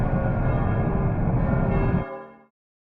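Bells ring with dense, overlapping metallic tones, loud and reverberant, then stop and leave a lingering ring that fades away.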